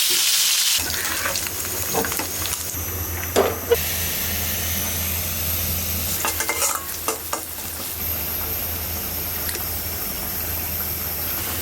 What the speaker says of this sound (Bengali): মাছ ফুটে ফুটে আমার হাত শেষ তেল এত ফুটছে এই মাছ